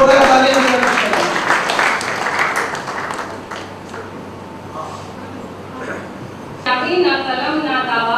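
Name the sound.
audience applause for a poet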